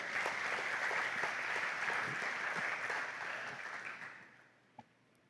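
A church congregation applauding during a sermon, a sustained wash of clapping that holds steady then fades away over the last second or so, ending with one isolated tap.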